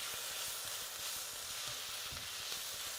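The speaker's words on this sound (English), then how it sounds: "frying nicely, getting a bit golden" Cod, potatoes, onions and olives frying in olive oil, giving a steady, dense sizzle with faint crackles, close and continuous throughout, with no talking.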